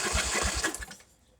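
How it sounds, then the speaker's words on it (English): An electric starter cranks a zero-turn mower engine fitted with a new flywheel, giving a short, rapid rhythmic churning burst that cuts off after about a second, close and fairly loud. "let's just see if this starter will spin this motor"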